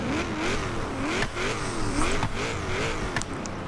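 A 1,000-horsepower twin-turbo LS3 V8 in a video game Mustang Boss 302 drift build revs repeatedly, pitch rising and falling in quick cycles, loud and steady with no talking.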